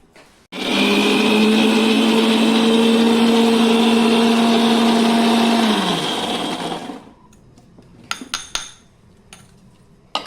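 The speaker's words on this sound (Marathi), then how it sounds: "सर्व साहित्य घालून मिक्सरवर बारीक वाटून घेऊया।" A mixer grinder grinding chutney roars loudly at close range for about six seconds, its motor whine winding down, followed by quiet clinks and taps.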